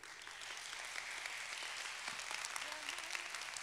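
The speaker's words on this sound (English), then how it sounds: "By round of applause, if you believe you can't outgive God, let me hear it" A church congregation applauds at a sermon. The dense, steady clapping is fairly distant and holds evenly across the whole stretch.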